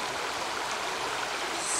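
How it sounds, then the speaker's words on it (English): A river flows beside a hiking trail with a steady, close, broadband rushing of water, continuous and even, with no voices. "And we're by a beautiful river."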